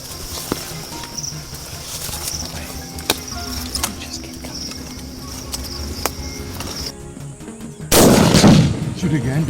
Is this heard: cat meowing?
no